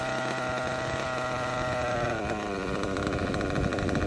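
A small nitro engine idles close by with a loud, steady, buzzy drone. Its pitch wavers slightly and rises in the second half as the idle settles.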